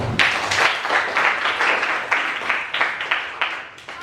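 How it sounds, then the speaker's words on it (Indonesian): Classroom applause, a group of students clapping together in a fairly loud, rhythmic burst with uneven pulses that carries on steadily throughout, close by and without talking. "Beri aplaus."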